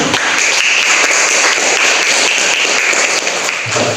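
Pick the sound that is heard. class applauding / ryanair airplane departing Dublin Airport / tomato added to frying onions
class applauding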